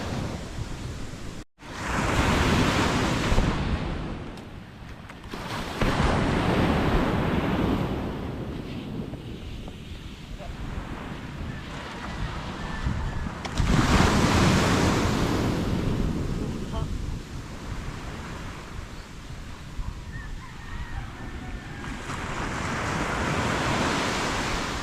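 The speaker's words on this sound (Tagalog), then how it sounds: "Ito sa tabing dagat." Broad surf washes onto a beach from a small fishing boat's shore, swelling and fading in slow surges with steady wind buffeting the microphone and faint talk underneath.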